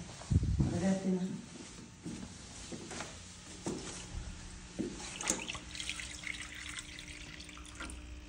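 Water trickles steadily from a cat drinking fountain indoors, a soft continuous running flow with occasional drips, heard beneath someone speaking Spanish close by.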